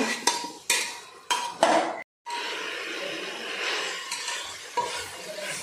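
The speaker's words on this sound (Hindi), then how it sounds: "बॉईल केलेला सोया, आपण आता छान मिक्स करून घेऊया। हे छान फ्राय होईल आपले।" Boiled soya chunks and vegetables for veg pulao are stirred in hot oil in a pan: a few loud spatula scrapes, a brief gap, then a steady close sizzle with lighter stirring.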